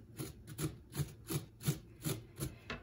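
A spoon or scraper works stringy leftover pulp out of a cut pumpkin being prepped for pressure canning, giving about eight steady, even scraping strokes in a close, regular rhythm.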